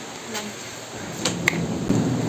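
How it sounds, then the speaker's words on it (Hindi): Heavy rain pours outdoors near a main gate in a hill region, a steady broadband hiss with a few sharper knocks and clatters over it, fairly loud and continuous. "जैसे ही हम मेन गेट तक पहुंचने वाले थे, वैसे इतनी तेज़ बारिश होने लगी।"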